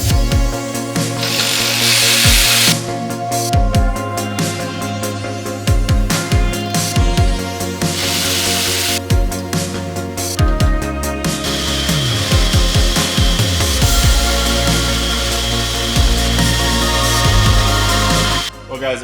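Power tool working brackets off a BMW F80 M3, loud whirring bursts of a drill or impact driver starting and stopping repeatedly, with ratcheting and metallic clatter between runs.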